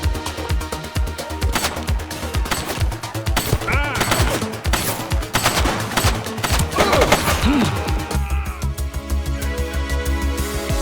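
Rapid bursts of gunfire from the police video game The Precinct crackle almost nonstop, loud and dense with overlapping shots and brief quieter gaps, with faint voices now and then.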